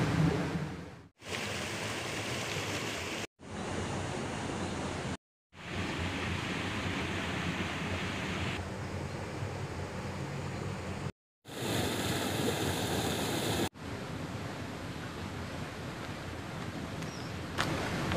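Rushing river water at a fishing spot on a fast-flowing river, a steady broadband roar, loud and close, broken by a few brief cuts.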